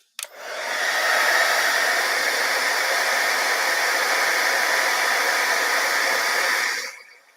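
A heat tool blows hot air steadily over a tropical leaf craft piece, a loud continuous whooshing rush that holds for about six seconds before cutting off, with no talking.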